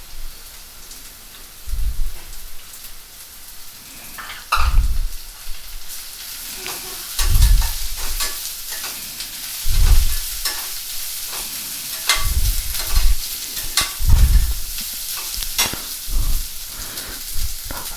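Finely chopped cabbage fries in a pan for a Savji Gobi Manchurian with a steady bright sizzle, while a spoon stirs and scrapes it in dull, rhythmic knocks every couple of seconds.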